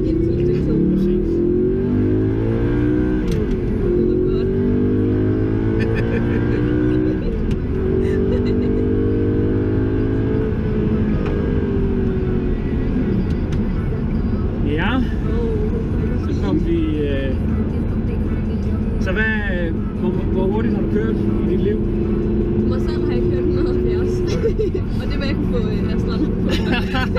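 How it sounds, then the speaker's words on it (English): An Audi R8 accelerates and cruises at highway speed, around 130 km/h in fourth gear, with a loud, continuous engine drone that climbs in pitch through revs under frequent in-car talking. "Nå, nu kører vi 130 cirka i fjerde gear."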